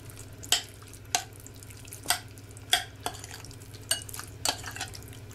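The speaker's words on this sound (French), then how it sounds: "Vous remuez bien pour que la marinade imprègne tous les morceaux." Marinated beef pieces stirred in their marinade: a run of wet, squelching strokes at a steady rhythm, about one per half second, close and clear over a faint low hum.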